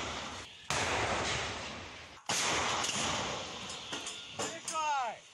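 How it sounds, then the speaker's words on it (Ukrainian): Two sudden loud blasts, each a sharp broadband crack followed by a long rumbling roar, like heavy guns firing nearby, with a faint whistling sweep at the end, from a frontline artillery gun near Soledar and Bakhmut. "Гармата!"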